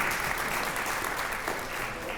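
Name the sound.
audience applause for Youth Apprenticeship Day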